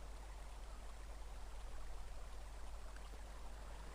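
A flowing river in the video game Final Fantasy Tactics Advance, a soft, steady hiss of rushing water that stays constant and faint with no breaks and no voices.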